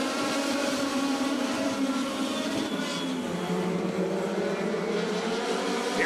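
Race cars running together on a track during qualifying heats, a continuous loud engine roar with layered pitches rising and falling, and no voices.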